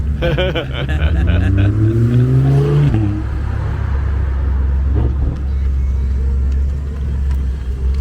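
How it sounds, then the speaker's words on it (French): V8 engine revving at a Cars and Coffee meet in Nantes, a loud close rev climbing in pitch then dropping into a deep rumbling idle, with people chatting over it. "Déjà un V8, ça sera pas mal. Ah bah la sonorité c'est magique."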